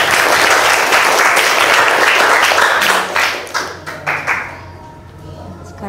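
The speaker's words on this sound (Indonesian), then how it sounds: "Tepuk tangan untuk Alfira." A classroom group claps for a student, a loud burst of applause that thins into scattered claps and fades over several seconds, with some voices mixed in.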